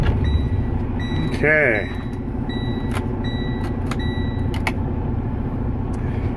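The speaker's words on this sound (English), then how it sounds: "And go ahead and start my vehicle." A commercial vehicle's engine cranking and starting before an air brake test, then settling into a steady idle with repeated dashboard warning beeps, while a person speaks briefly.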